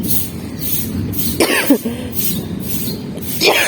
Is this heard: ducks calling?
no